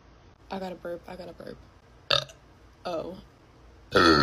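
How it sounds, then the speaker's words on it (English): A woman lets out deep burps close to the microphone, a few short voiced bursts and then a longer, rougher one at the end, with talking mixed in. "I gotta burp."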